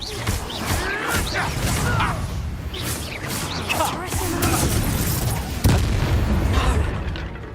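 Fire spell blasting in Hogwarts Legacy, a series of loud booming bursts and whooshes over a dense, busy combat mix, with brief voices shouting amid the action.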